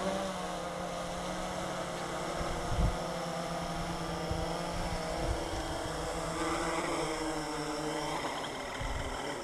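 A Blade 350 QX quadcopter hovers at about 30 to 40 feet, giving a faint, steady whir of rotors heard from a distance with a few gusts of wind.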